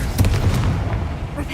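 Confringo blasting spell bursting in the Hogwarts Legacy video game: a couple of booming magical explosions with crackling bursts, loud and close, over a low rumbling game backdrop.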